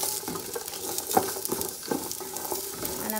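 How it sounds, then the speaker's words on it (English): Chow mein, ground turkey and vegetables are stirred as they fry together in a pot, giving a close sizzle broken by repeated scraping and tossing strokes, with no voices. "I'm gonna mix the chow mein, the ground meat, and the vegetable all in this pot here"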